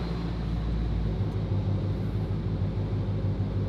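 A broken-down car's engine runs with a loud, steady low rumble and droning hum, close and constant throughout, with no clear rev rise and no talking.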